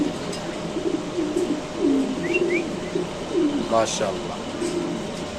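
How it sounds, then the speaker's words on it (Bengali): Black Mundian pigeons coo softly at a pigeon market in low, repeated throaty rolls, with a couple of brief chirps and a sharp call partway through, against steady background noise. "এখানে আছে ব্ল্যাক মুন্ডিয়ান কবুতর"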